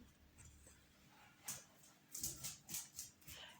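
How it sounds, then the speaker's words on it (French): A dog yips and barks several times in short bursts, with a faint whimpering quality, not very close, against a quiet room. "Désolée pour le bruit du chien"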